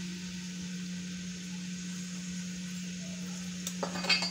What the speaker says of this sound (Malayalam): ഓയിൽ ചൂടായിട്ടുണ്ട് അപ്പോൾ നമുക്ക് മീഡിയം സൈസ് സവാള അരിഞ്ഞത്